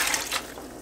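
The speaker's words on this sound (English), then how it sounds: "You want to dump in 1 liter of water," Water being poured into a cooking pot, a short, close splash and trickle that fades within a second, with no talking over it.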